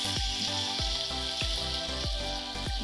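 Morel soaking liquid poured into a hot pan sizzles loudly and continuously, with a steady frying hiss and regular scraping and stirring strokes close by, and no talking.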